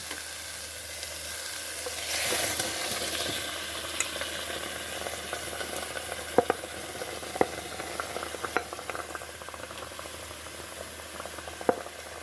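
Mutton pieces frying in spiced oil give a steady, moderately loud sizzle and bubbling, broken by scattered sharp pops and a few spoon scrapes against the pan.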